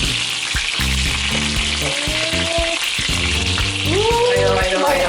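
Oil sizzles loudly and steadily in a frying pan while Jamaican curry chicken cooks, a dense continuous crackle that fills the clip, with a few brief whistling tones rising over it and no talking.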